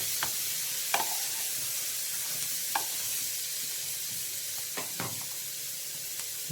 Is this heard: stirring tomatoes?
yes